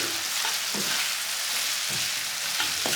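Chicken pieces for Hyderabad-style Chicken Majestic fry in a pan with vinegar, soy sauce and tomato sauce, a close, steady sizzle broken by a few soft scraping stirs.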